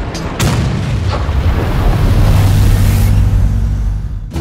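Artillery shells hit an AMX 50 B tank in World of Tanks, a heavy booming blast followed by a long rumbling roar that fades out at the end.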